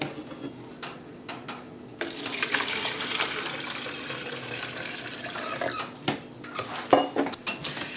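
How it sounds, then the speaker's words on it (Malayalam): Water poured into one section of a plastic self-watering plant container, a steady splashing pour lasting several seconds amid clinks and knocks of the container being handled nearby. "ഇനി നമുക്ക് ആദ്യം തന്നെ ദാ ഈ ഒരു പോർഷനിൽ നമുക്ക് വെള്ളം മറയ്ക്കാം"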